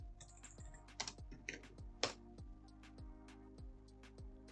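Keys on a computer keyboard are tapped in a quick, irregular burst of clicks as a search phrase is typed, close and fairly quiet over a low steady hum, with no voices.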